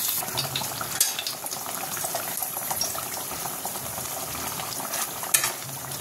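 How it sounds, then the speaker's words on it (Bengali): A pot of Bengali parshe fish curry bubbling on the stove, giving a steady close simmering hiss and sizzle with faint clinks and no voices. "ঝোলটা ফুটে গেছে, এবার এর মধ্যে মাছগুলো দিতে হবে"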